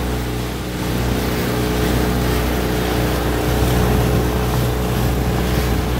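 A motorboat races through a canal in Miami, its engine roaring loud and steady at close range for the whole stretch, with the constant rush of water and wind behind it.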